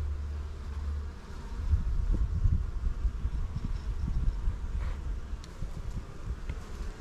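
Honey bees buzz steadily in an open hive during an inspection, a dense, low, continuous drone heard close with faint rustling and no voices.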